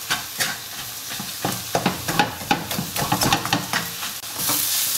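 Onion being stirred in a frying pan gives a steady sizzle with irregular scraping and clacking strokes from the utensil, close and fairly loud, ending in a brighter hiss, with no talk.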